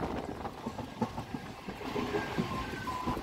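A Katwa–Ahmadpur MEMU electric train running along the track, with a steady rumble and irregular rail clatter continuing throughout the short stretch at moderate loudness, no voices present.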